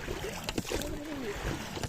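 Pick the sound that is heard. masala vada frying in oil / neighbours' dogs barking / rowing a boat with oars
rowing a boat with oars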